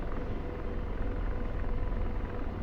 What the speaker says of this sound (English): bringing the helicopter back around